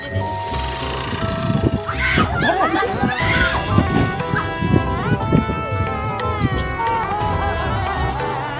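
A woman shrieks and screams repeatedly before riding a scooter, her high piercing cries loud and close over a noisy background.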